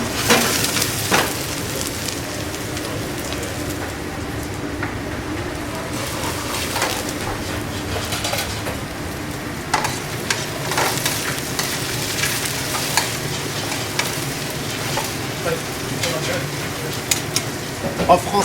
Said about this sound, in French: En français, on dit suer les oignons avec un peu de coloration, un petit peu de coloration.